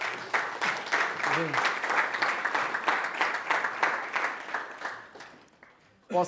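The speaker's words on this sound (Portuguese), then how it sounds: "se quiserem dar uma salva de palmas" Sustained audience applause, many hands clapping steadily, fills the space before fading out, with a voice starting to speak at the very end.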